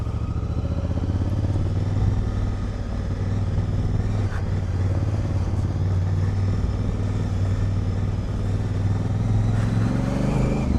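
Honda Africa Twin motorcycle being ridden on a road in Portugal, a loud steady engine drone with a low rumbling note held throughout, plus wind and faint rattles.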